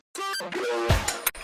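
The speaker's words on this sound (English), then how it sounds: "and then I have a reverse sample of these vocals." A reversed vocal sample swells in with a backwards, rising sung tone, then smears into a short breathy rush and a clipped, sucked-in ending, all within about a second and a half, alone.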